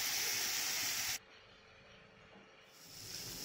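Potatoes frying in hot oil in a karai wok, a steady loud sizzling hiss that cuts off abruptly partway through, then returns softly and builds again.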